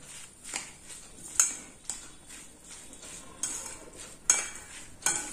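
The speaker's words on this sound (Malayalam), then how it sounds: "ഇങ്ങനെ നന്നായിട്ട് ഇളക്കുക" A spoon stirs vadukapuli pickle for an Onam sadya, clinking against the container in several distinct knocks at irregular intervals with soft scraping between them.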